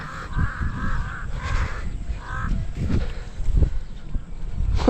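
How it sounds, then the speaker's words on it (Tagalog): Several crows caw repeatedly over a busy outdoor background of rumbling and voices during chili pepper planting, the calls moderately near and fairly loud. "Ang dami na namang uwak ah."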